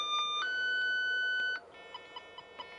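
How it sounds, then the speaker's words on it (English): Electronic tone from a Klein Scout Pro Max cable tester: steady high beeps that step up in pitch, then switch to a warbling tone with repeated short pulses, loud and close with no talk. "We even set how long we want it to warble for, so we can identify cables with this"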